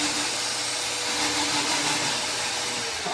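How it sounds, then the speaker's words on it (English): Warn Pullzall electric hoist running steadily while lifting a Cub Cadet riding mower, a continuous close motor whine and hum holding level throughout with no talk. "So we'll get the Pullzall going here."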